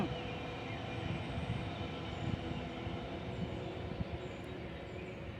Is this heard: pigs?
no